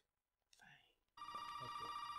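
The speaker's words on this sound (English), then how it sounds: "Answer the phone before you save." A telephone rings in the Resident Evil 7 video game, a sustained electronic bell tone starting abruptly after a short burst of movement noise, fairly loud against quiet surroundings.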